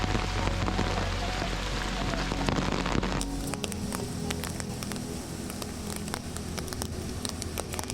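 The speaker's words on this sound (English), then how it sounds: "exactly at that time the rain started to pour heavily" Heavy afternoon rain pours down in Plitvice Lakes National Park, Croatia, as a dense steady hiss of drops on surfaces that goes on throughout, with a louder rumbling wash during the first few seconds.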